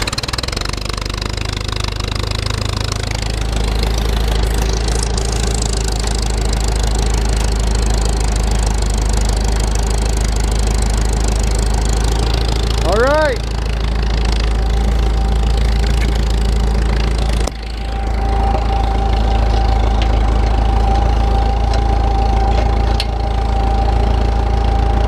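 An IH Super MTA tractor engine idles close by, a loud, steady low rumble with a rough knocking beat that runs throughout, with a brief rising whine partway and a short dip before it settles back.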